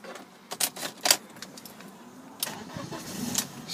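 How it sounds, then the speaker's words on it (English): A silver BMW 318i sport with a manual gearbox and petrol engine being started: keys jangle and click in a few quick bursts, then the engine catches and settles into a soft, close idle. "Starting her up, no problem at all there."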